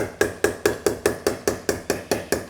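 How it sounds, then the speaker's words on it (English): A hammer lightly taps metal on a ute body, eleven evenly spaced sharp knocks in a quick, steady rhythm, close and clear with no talk. "I'm literally letting the hammer, I'm not smashing it"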